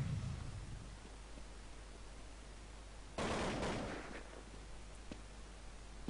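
Gunfire in Counter-Strike during a LENOVO Cup 5on5 semifinal match, a burst of shots standing out over a steady hiss of background noise, with no talk.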